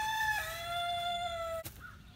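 A chicken gives a long drawn-out crowing call, clear and fairly close, ending in a brief sharp noise and a quiet cluck-like note; no one speaks.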